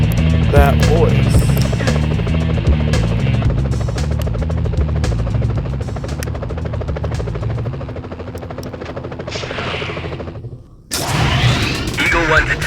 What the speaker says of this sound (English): police choppers